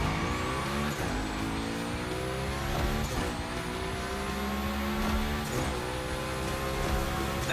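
A car drifts through a gymkhana course in The Crew Motorfest video game, its engine droning and revving steadily with rising gear whines and sliding tire noise throughout, no talking.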